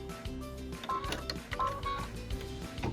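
A sewing machine stitches the tack-down line on a pieced quilt block, giving a steady mechanical whir with quick rhythmic needle clatter and a few brighter tones, close and continuous with no talking.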